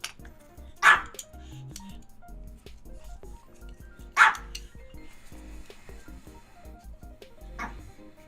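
A puppy barks indoors in three sharp, separate yaps spaced a few seconds apart, with quieter shuffling and faint background sounds between them.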